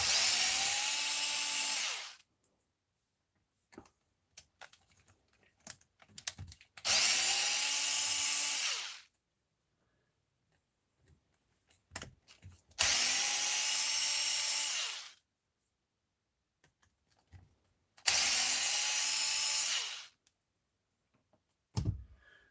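A power drill backs screws out of the battery tray on a Redcat Kaiju V1 RC truck in four loud, steady whirring bursts of about two seconds each, separated by quieter gaps with small clicks and handling noises.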